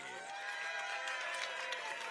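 Brazilian supporters cheering and applauding at Nathan's Famous international hot dog eating contest weigh-in, a steady dense wash of crowd clapping and cheers, moderately distant and continuous.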